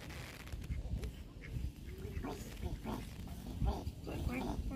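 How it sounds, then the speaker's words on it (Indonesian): Ducks quack in short bursts close by, mixed with busy chatter from people nearby and a steady murmur of background noise. "Ini bebeknya di sini ya."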